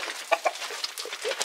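Chickens cluck and murmur in a muddy farmyard, a cluster of short close calls scattered irregularly over a soft background, with no talking.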